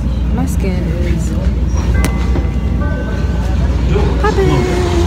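Steady rumbling of a train rolling on rails, with squeals and brief tonal whines rising over the constant low roar throughout.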